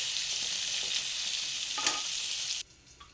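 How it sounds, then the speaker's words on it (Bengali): Sliced bitter gourd sizzles steadily in hot oil with turmeric and salt, a bright, even frying hiss with a faint stir partway through. It cuts off abruptly near the end, and no one speaks. "সুন্দর করলা ভাজাটা করে নিচ্ছি আজকে রেসিপির জন্য"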